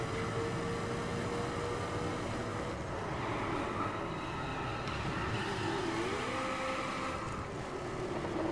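Roaring drag-spec race cars in The Crew racing game, a dense, continuous engine drone that holds steady and loud for the whole stretch, with a faint whining tone gliding through it and no voices.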